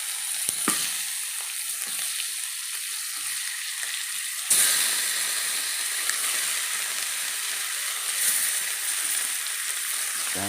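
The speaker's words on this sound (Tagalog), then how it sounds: "After natin magsisa, lalagay ko naman ngayon ay itong chicken." Steady loud sizzle and hiss of chicken wings and legs frying in a hot pan for adobo, a sharper burst of crackling partway through as more chicken goes in, continuous and close.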